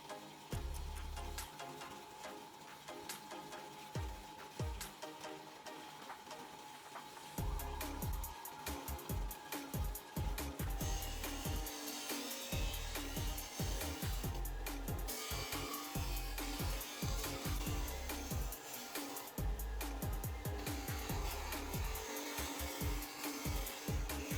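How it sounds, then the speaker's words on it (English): Loud, grinding workshop noise from a drill press boring holes in metal plates, running in long steady stretches with brief pauses between. "onto the drill press, drilled out the holes"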